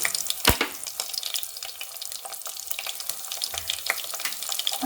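Chopped green chillies and onions fry in oil for a chicken curry, a close, steady sizzle and hiss with a sharp spatter burst near the start and light stirring scrapes, and no one talking.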